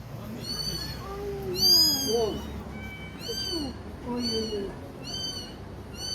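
Several high, drawn-out cat meows repeat at intervals over faint background noise, fairly close and clear.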